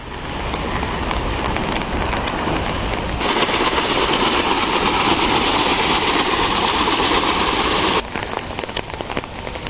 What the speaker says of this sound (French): Là, il tombe. Là, il pleut